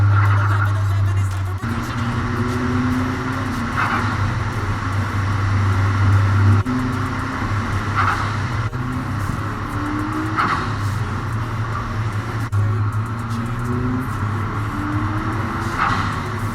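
A Peugeot road-going race car driven on public roads, heard from a bonnet-mounted camera: loud engine hum with rising tones through several gear changes, roughly every two to four seconds, over continuous wind and road noise.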